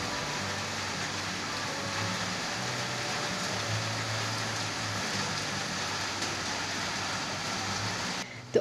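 Steady morning rain falls in a constant hiss for several seconds, an even wash of drops with a low background hum, ending in a brief sharp knock.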